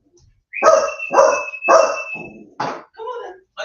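A dog barks loudly and close by in three quick bursts, each a harsh full-bodied woof, after reacting to a postman outside; a voice follows in the final second.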